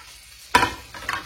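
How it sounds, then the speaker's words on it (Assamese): Three bay leaves dropped into hot oil for a chicken curry, giving a sudden loud sizzling burst that settles into a steady crackle, with a second smaller flare of spitting near the end. "আৰু তেজপাত 3টামান দি দিছোঁ এইখিনি এতিয়া জাষ্ট অকণমান ভাজিম"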